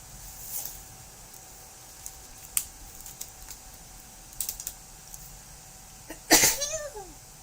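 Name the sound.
sneeze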